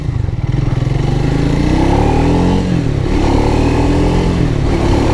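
A Triumph Speed 400 motorcycle accelerating through short gears, its engine loud and close as the revs climb and drop in turn at each upshift over several seconds.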